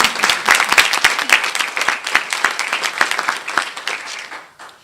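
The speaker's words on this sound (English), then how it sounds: "Let's give her a round of applause." A school-board meeting audience gives a round of applause, dense, steady clapping from many hands at moderate distance that holds strong for several seconds, then thins and fades out at the end.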